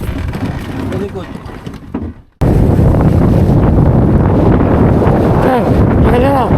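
Strong wind buffets a breakwater on Manila Bay, roaring and rumbling steadily close to the microphone, cutting out briefly and then returning louder as voices talk faintly over it.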